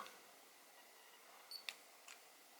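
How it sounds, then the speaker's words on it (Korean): A Casio QV-5700 vintage digital camera fires its shutter with the flash, giving a faint beep, then a sharp click and a softer mechanical tick in a quiet room. "일단 한번 사진 찍어 보도록 하겠습니다"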